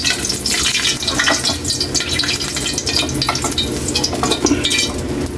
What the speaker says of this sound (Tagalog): Ito na yung pina-fried natin ng pata. Kunin na natin. Matalsik pa rin